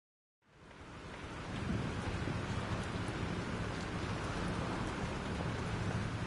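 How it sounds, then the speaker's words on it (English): Heavy rain pours steadily during a storm in the video game Life is Strange, a dense continuous roar that fades in quickly and holds with a low rumbling undertone. "This storm's real."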